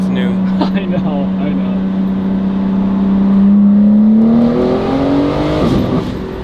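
A BMW G80 tuned to 700 wheel horsepower accelerates hard; its loud, close engine note climbs steadily in pitch over several seconds before easing off at the end.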